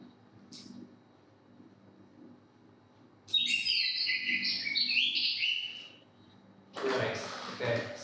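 A Baltimore Oriole song synthesized with code: a few seconds of bright, rapid whistled chirps, with a person speaking before and after it.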